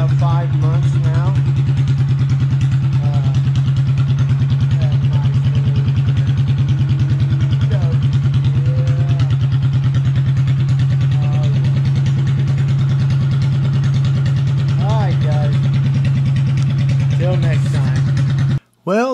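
A restored Shriner's parade car engine runs steadily at idle with a loud, constant low hum and light clatter, with faint talk over it, before cutting off abruptly at the end.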